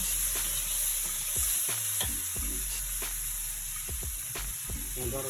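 Drumsticks (sajna) frying in a pan during home cooking of Katla fish curry, a steady loud sizzle with scattered stirring clatters and taps, no talk over it.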